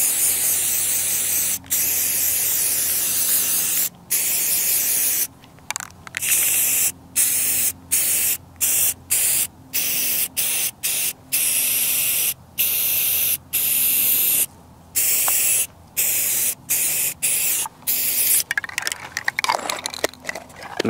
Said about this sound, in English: Being repaired by some good old spray paint.